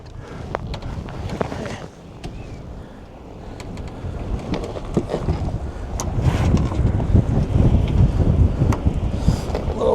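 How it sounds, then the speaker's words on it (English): Wind buffets the microphone on a Com-Pac Eclipse sailboat, swelling stronger in the second half, with rushing water and a voice speaking over it. "Comes a gust"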